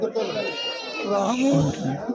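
Goats and rams bleat at the weekly Tuesday livestock market in Kadiri, with wavering calls rising over steady crowd chatter and nearby voices throughout.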